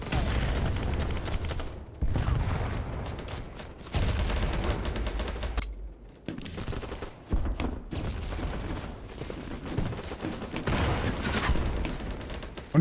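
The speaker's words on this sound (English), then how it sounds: "That's a machine gun, too." Repeated bursts of automatic machine-gun fire in a war video game, loud and dense with short gaps between volleys and booming impacts beneath.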